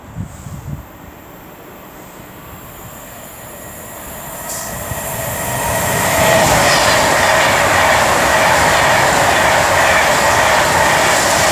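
An Avanti West Coast Class 390 Pendolino electric train, unit 390107, approaches on the West Coast Main Line at Rugeley Trent Valley; a faint distant rumble builds into a loud, sustained roar of wheels and rushing air as it passes close by.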